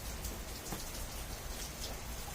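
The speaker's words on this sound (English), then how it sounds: "It's really raining here." Heavy monsoon rain pours down outdoors in a steady, dense wash of drops spattering on surfaces, continuous and close with no talking.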